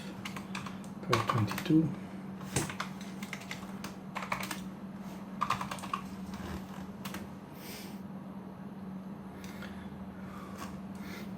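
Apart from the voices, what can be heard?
typing on a computer keyboard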